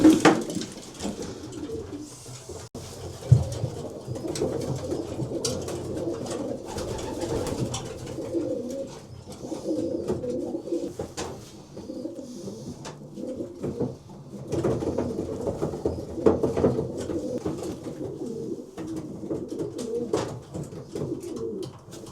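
Racing pigeons coo in low, throaty bursts throughout, a steady murmur of several birds close by with occasional soft rustles and knocks.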